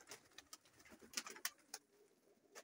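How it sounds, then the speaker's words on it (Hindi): Pigeons, among them a rare old white Jan Sahib pigeon kept by a fancier, give soft repeated coos and scattered wing or movement sounds nearby, with no talking. "ये वाइट ये मेरा फेवरेट कबूतर है"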